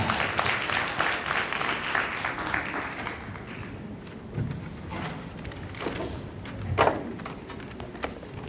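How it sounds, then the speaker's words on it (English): Audience applause at the 2021 Martin University 52nd commencement ceremony, a dense burst of clapping that thins out midway, followed by scattered claps and some bumps and shuffling noise. "Let's give them another round of applause."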